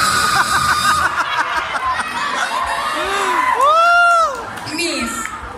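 A pageant audience at a Miss Gay contest in Palayan City, Nueva Ecija shouts and cheers loudly, with high whoops and squeals rising over a dense crowd roar that swells to a peak before easing.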